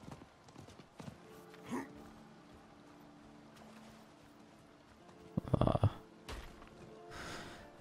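Faint hoofbeats of a horse in Diablo IV clip-clop at a steady gallop, quiet and somewhat distant, with a couple of louder thumps and crunches of objects breaking.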